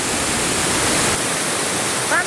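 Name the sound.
Stevenson Falls waterfall near Marysville, Australia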